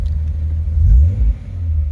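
A Nissan 300ZX with a suspected failing alternator revs, its engine rumbling low and loud as it swells up and then drops back to idle, close to the car.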